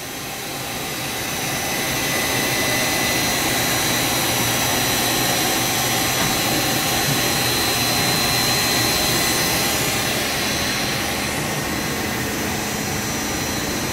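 A 2007 Fadal 4020HT vertical machining center spindle spinning at 3,000 RPM, a loud, steady high whine with a broad airy roar that swells slightly in the middle and holds without a break.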